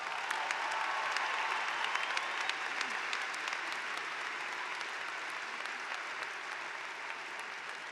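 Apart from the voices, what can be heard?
applause for commencement staff and volunteers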